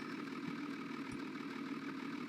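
A car engine in the video game BeamNG runs at a low, steady idle with a faint clunk partway through, quiet and without talk.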